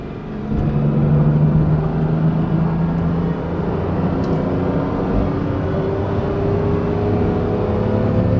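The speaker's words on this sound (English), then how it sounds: "we'll drop a gear to get some speed up" A Mercedes-Benz 280SL with a 4-speed gearbox pulls hard after a downshift, its engine holding a loud, steady droning rumble from inside the car as it gathers speed.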